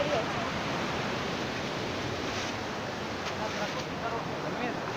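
Strong sea waves surging onto a narrow beach protected by breakwaters, heard as a dense, continuous roar of surf that stays loud and steady throughout with no distinct individual breaks.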